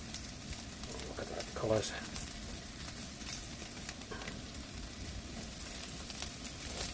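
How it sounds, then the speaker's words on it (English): Tempeh crisping in a pan with a soft, steady sizzle running underneath a person talking, faint and continuous, with a brief clatter partway through. "This tempeh is actually doesn't need cooking, and all we're trying to do is just crisp it up a little bit."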